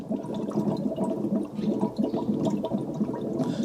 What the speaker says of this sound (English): once we get coolant in, we'll top up the water